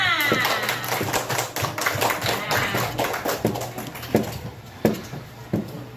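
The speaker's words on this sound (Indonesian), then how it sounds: "Tepuk tangan semuanya." A classroom of pupils claps hands together, uneven bursts of sharp claps mixed with children's voices and chatter, fairly close and lively.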